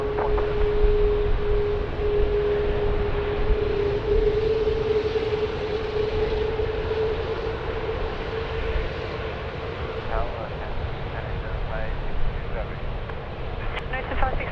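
A Qantas airliner powers up for takeoff on runway 16 right at Sydney Airport, a steady loud jet roar with a sustained whine running through it, and radio voices briefly audible partway through.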